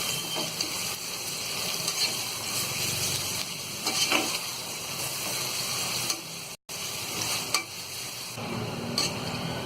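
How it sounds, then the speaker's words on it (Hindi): Sliced onions sizzle steadily in hot oil while being fried golden brown for Hyderabadi mutton biryani, a constant close crackling hiss broken by occasional scraping stirs. "तो प्याज को हमने गोल्डन ब्राउन होने तक फ्राई कर लिया है"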